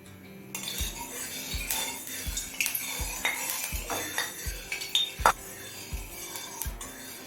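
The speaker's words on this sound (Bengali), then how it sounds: "কড়াই তিন টেবিল চামচ পরিমাণ সর্ষের তেল দিয়ে দিচ্ছি" A spoon clinks and taps against a metal kadai as mustard oil is ladled in, giving a run of sharp, evenly spaced metallic knocks up close in a quiet kitchen.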